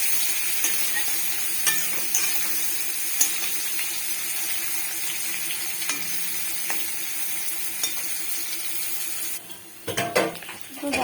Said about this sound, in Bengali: এর মধ্যে দিয়ে নেব হলুদ আর লবণ, ভালো করে এটা ভেজে নিতে হবে।